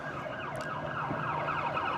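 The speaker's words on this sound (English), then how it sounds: "we have a siren going right now. That's an ambulance." An ambulance siren wails steadily nearby during a San Diego police shooting scene, its pitch sweeping up and down in a loud, continuous cycle over road noise.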